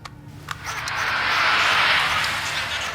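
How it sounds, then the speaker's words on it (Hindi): A heavy SUV-type engine on a tape recording swells into a loud, broad rush that builds and holds steady, like a vehicle passing close by, heard alone without talk. "ये एक एसयूवी टाइप हेवी इंजन की आवाज है"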